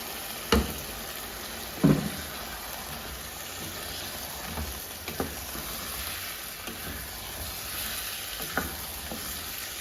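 Ginger-garlic paste and spices fry in a pot for chicken aloo gosht, with a steady broad sizzle throughout and a couple of sharp knocks of a spoon against the pot, then lighter occasional scrapes.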